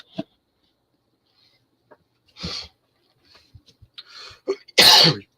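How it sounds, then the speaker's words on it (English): A few scattered coughs and throat-clearing sounds, close up, separated by silence, ending with a louder harsh cough. "you're going to have to pardon the coughing"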